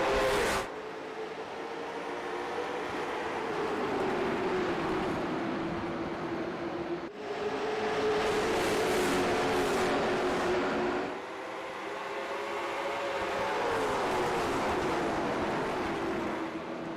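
Race cars in the DLine Racing League at Lakeland roar past on a green-flag restart, engine notes rising and sweeping as cars pass close, loud and continuous with brief dips between groups.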